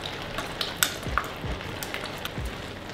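Fish sauce sizzles in a hot wok during a stir-fry, with steady frying crackle. Several stirring scrapes and light utensil clinks come at intervals, close by, and no one talks.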